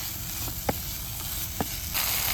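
Crushed ingredients frying in a pan while a fish podimass is being made, with a steady broadband sizzle throughout and a couple of brief clinks from stirring.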